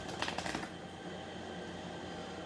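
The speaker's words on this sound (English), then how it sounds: "Shuffle the deck 3 times." A deck of playing cards is riffle-shuffled in a blackjack simulation, giving a brief burst of rapid, crisp fluttering clicks at close range, followed by quiet background hiss.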